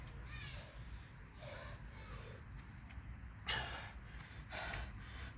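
Heavy, rough breathing and a few snorting exhales from a person just finishing a humid, warm workout of burpees and pushups, loud and close over a steady low rumble, with no talk.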